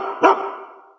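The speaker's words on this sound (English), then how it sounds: "It's the bark heard round the world." A dog gives a single loud, sharp bark that trails off in a short echoing tail, with nothing else around it.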